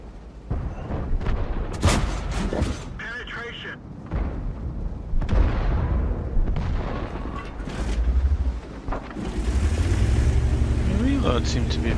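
Tank cannons fire in World of Tanks: several sharp, booming blasts go off at irregular intervals over a rumbling battlefield. A late shot trails off into a long, low roar.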